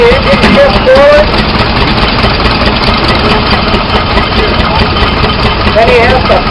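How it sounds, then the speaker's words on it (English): An old tractor engine idles steadily at a harvest reunion show while its engine is slid forward on the frame, a rough continuous low rumble with people talking over it. "He's going to pull a lever, see the engine shift forward."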